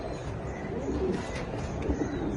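Pigeons coo softly and steadily at a pigeon farm, a low continuous murmur of several birds close by with no talking.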